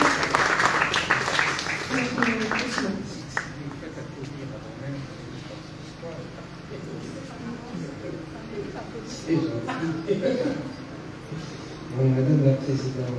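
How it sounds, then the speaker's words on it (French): Applause welcomes an ambassador at a ceremony, a short burst of clapping at the start that quickly gives way to talking, with a few more scattered claps later amid the voices. "je vais demander d'applaudir et d'accueillir Monsieur l'Ambassadeur"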